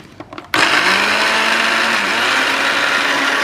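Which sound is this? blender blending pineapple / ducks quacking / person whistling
blender blending pineapple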